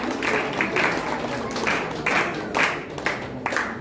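A crowd at a women's gathering in Ambegaon Pathar, Katraj, Pune, claps in the hall, a dense, fairly close patter with several rhythmic group swells, the kind of unison beats that come when people are asked for three loud claps.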